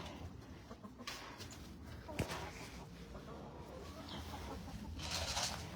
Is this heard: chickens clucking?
yes